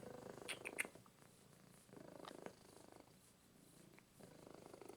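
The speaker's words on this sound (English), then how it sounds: "I'm hanging out with my kitty cat, Mrs. Doodoo." A house cat purrs close by in a quiet room where arcade repair work goes on, a soft rhythmic rumble that swells and fades with each breath.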